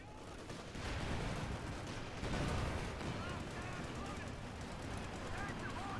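Distant tank cannon and battlefield gunfire in Company of Heroes 2, a Panther and Sherman trading shots amid a dense, rumbling wash of combat noise, with a commentator talking over it.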